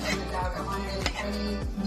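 A knife slices an onion thinly on a cutting board, with several crisp, close chopping strokes in quick succession and no talk.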